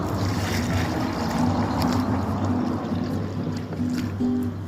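Water is poured onto a newly planted groundcover rose in autumn, making a steady, close rush of splashing water that soaks the planting hole and lasts throughout, over a faint low hum.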